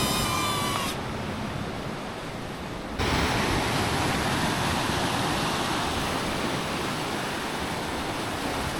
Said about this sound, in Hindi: यहाँ तो हवा और वेव्स बहुत तेज़ आ रही हैं